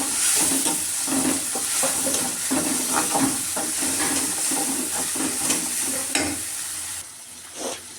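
Onion and ground paste sauté in oil for a fish curry, a close steady sizzle broken by rhythmic scraping stirs of a spoon against the pan, easing and quieting near the end, no speech.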